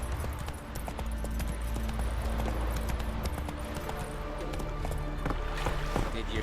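Roach, Geralt's horse in the video game The Witcher 3, gallops in a steady rapid clip-clop of hooves over a dense rumbling game soundscape, running for the full stretch.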